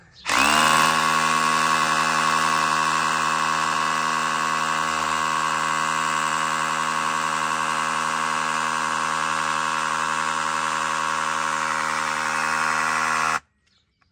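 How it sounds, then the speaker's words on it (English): A Makita DHR171 18V cordless SDS drill runs continuously while drilling a hole, a steady loud whine with rapid hammering texture holding for about thirteen seconds before cutting off abruptly. "SDS drill, the 18 volt version of what I've just drilled a hole in."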